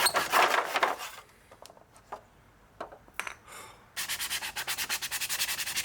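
A freshly sharpened knife is hand-sanded after deburring, starting with loud rhythmic rasping strokes. Scattered scrapes follow, then a run of fast, even back-and-forth strokes, close up with no talk.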